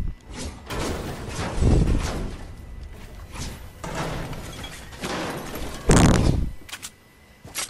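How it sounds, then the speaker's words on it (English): Building pieces going up in the Fortnite video game: a series of heavy slams and thuds with sharp bursts, the loudest near the end, over a steady background of game noise. "I just heard building."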